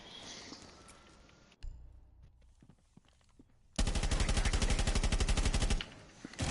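Gunfire rattles in a competitive shooter match: a few sharp shots come first, then a sustained loud automatic burst lasts about two seconds, followed by a couple more single shots.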